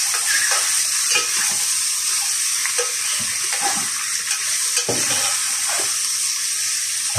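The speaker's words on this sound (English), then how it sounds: "Gisa natin ng konti bago natin lagyan ng konting soy sauce" Small abalone sautéing in a hot pan, a steady loud sizzle with repeated scraping stirs for several seconds and no talk.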